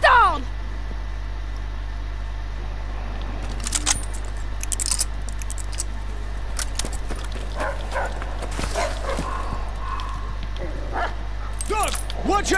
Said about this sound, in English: Dog, watch out!